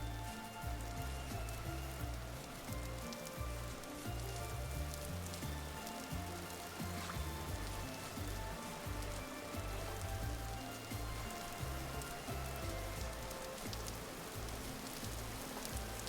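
Rain falling in the survival video game Vintage Story, a steady, faint patter of drops on surfaces that continues evenly throughout.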